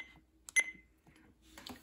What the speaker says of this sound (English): these are the button beeps